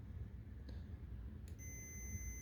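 A multimeter in audible continuity mode gives a steady, faint high beep once its probes touch, starting just past the midpoint and held to the end over a quiet background.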